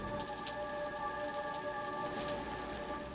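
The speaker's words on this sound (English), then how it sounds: "we got rain" Steady rain falls during the BC forest fires, a dense even hiss of drops on surfaces with a faint hum underneath.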